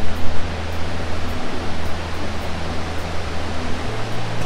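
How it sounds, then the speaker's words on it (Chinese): Vernal Fall in snowy Yosemite National Park roars as a steady, broadband rush of falling water heard from a distance, constant and even, with a faint low hum underneath. "听这个瀑布的声音就很疗愈了"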